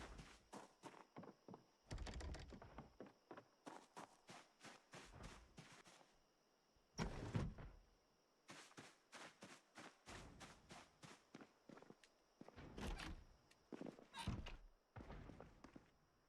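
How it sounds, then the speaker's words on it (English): Repeated metallic thumping like a garage door being battered in Project Zomboid, a series of dull, hollow knocks in irregular clusters with short pauses, moderately close and heard without talk over it. "That sounds like a garage door, right? That metallic thumping."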